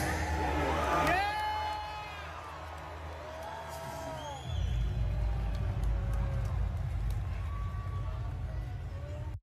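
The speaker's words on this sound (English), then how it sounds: "the crowd popped in the arena when Roman said he was taking back his title" A wrestling arena crowd roars and cheers in a big pop, a loud, far-off surge of voices with whoops that swells again partway through, while people shout and talk over it.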